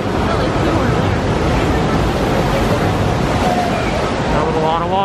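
Broadband rush of water from a theme park raft ride at SeaWorld, a loud continuous wash and splash that fills the whole span, steady and close.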